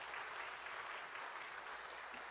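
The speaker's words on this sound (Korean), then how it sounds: "우리 박수 한번 해주십시오." A church congregation gives the children a round of applause. Steady, even clapping from many hands fills the room at moderate distance, with no talk over it.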